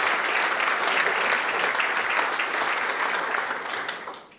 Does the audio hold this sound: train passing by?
no